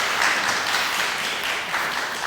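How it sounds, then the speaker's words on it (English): Audience applause at a library conference, a dense, even wash of clapping sustained throughout at moderate distance. "Well, one more time, round of applause."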